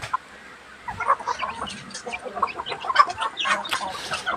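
Chickens cluck and chatter in an irregular run of short calls that starts quietly and then grows busier and louder, heard at moderate distance with no talking.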